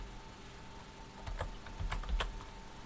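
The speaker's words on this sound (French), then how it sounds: "On va demander à Sophie d'écrire un mail à Jean" Someone types an email on a computer keyboard in an office setting, producing scattered soft key clicks at moderate distance over a low steady hum, with no talking.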